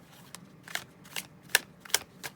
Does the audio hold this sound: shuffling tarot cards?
yes